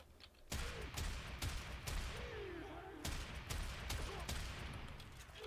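Shotgun fire in the sci-fi shooter Warframe, a string of sharp booming blasts at irregular intervals over dense game effects and rumbling ambience, loud and continuous.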